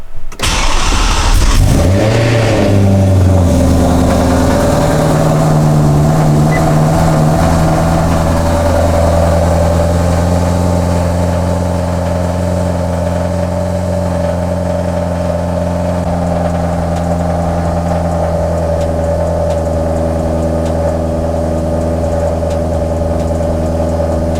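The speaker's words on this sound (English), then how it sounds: "I'm going to go ahead and turn the car on and see what happens." A BMW M3 engine with a BPM Sport burble tune cranks and catches, revs up briefly, then settles into a steady, loud idle that hums on without any talking.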